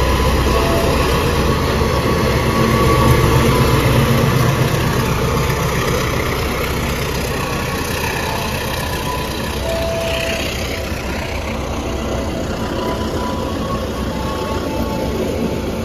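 A train locomotive idles at Cirebon station on the KA Bengawan service, a steady, fairly loud diesel rumble with a broad hiss that holds evenly throughout, with no voices.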